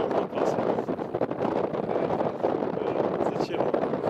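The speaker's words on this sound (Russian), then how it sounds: "Ветер холодный." Cold spring wind buffets the microphone outdoors by a small footbridge over water, a steady loud rumbling roar that fills the whole stretch without letting up.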